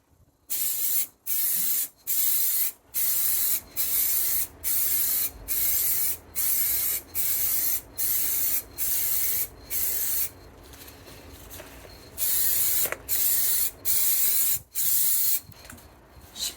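Short bursts of a rattle can spraying E-Tech Clear, a hard wheel lacquer, onto a car wheel, about a dozen hissing passes of roughly a second each with brief gaps, close and loud.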